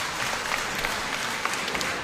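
Steady hand clapping from a wrestling crowd just before a match, a dense, even patter of many claps with a few sharper bursts standing out over two seconds.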